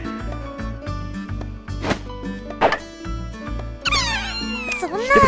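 A cat in the visual novel Little Busters lets out several loud, close meows, a couple of them drawn-out and wavering near the end, over rhythmic background music with a few soft thuds.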